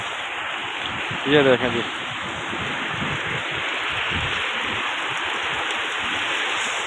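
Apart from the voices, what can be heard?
heavy rain in Medina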